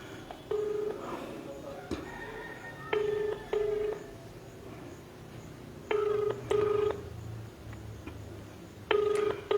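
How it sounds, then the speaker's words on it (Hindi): Repeated electronic telephone ring tones in short paired bursts, separated by pauses, with a soft background hum and faint noises between rings. "अचानक से घंटी बंद हो गया, लेकिन डायलिंग ही अभी दिखा रहा है।"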